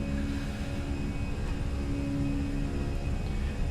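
In Microsoft Flight Simulator, a Fenix A320 airliner accelerates down the runway on takeoff at Cork, with a loud, steady engine roar and whine that holds constant with no voices.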